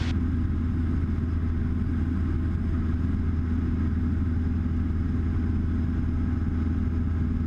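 A Cessna light aircraft's piston engine drones steadily and loudly inside the cockpit, an unbroken, even hum with no pauses throughout.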